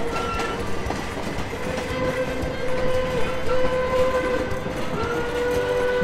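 A train on the Cumbres and Toltec Scenic Railroad rumbles along the rails with a steady rolling clatter and a sustained whistle-like tone, moderately loud and continuous throughout.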